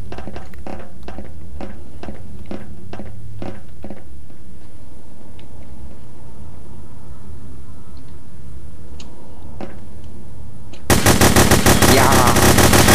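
Rapid bursts of gunfire from a Half-Life 2 mod, The Hidden, crack out in quick repeated shots, thin out to scattered distant pops, then give way to a sudden loud, dense, sustained blast of firing at the end.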